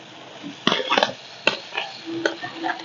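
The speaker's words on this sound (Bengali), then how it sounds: "এখন দিয়ে দিব ভেজে রাখা আলু পটল" Fried potato and pointed gourd are tipped into spice paste in hot oil, making a few sharp clattering drops and scrapes, followed by light sizzling and stirring against the pan.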